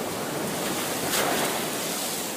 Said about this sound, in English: The waves, yeah, it's pretty wild out there.